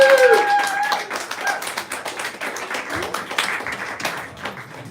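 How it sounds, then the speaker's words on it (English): A live stand-up comedy audience claps for a few seconds, a scattered, moderately loud patter of hands that starts with a brief tonal whoop and then keeps a fairly even rhythm. "Big applause."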